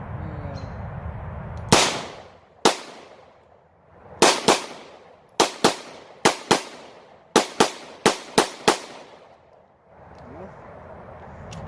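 A Taurus TH9C 9mm pistol fires a string of about a dozen sharp, loud shots outdoors, first spaced apart, then in quicker irregular pairs and runs as the trigger moves from double action to single action.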